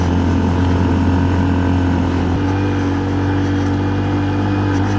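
A Honda Monkey motorcycle on Shinko Mobber tires labours up a rough, rocky, muddy mountain trail, its engine droning loud and steady, with a slight shift in pitch midway, close to the rider.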